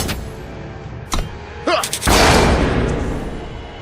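A gunslinger unit attacks in the Eternal card game: a couple of sharp shots crack out, followed by a louder booming blast that rolls off over a second or so.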